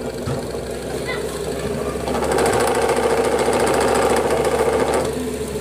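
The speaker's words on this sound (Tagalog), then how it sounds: "Maingay guys yung electric fan or itong wall fan pag umaandar." A noisy electric wall fan runs with a steady mechanical whir and rapid rattling buzz that grows louder partway through, close by, with a brief voice at the start.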